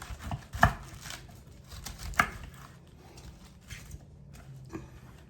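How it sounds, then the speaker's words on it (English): Knife roughly chopping through a whole head of cabbage on a board, a few sharp, close chops spaced apart over a quiet kitchen background hum. "We're just gonna kind of do a rough chop."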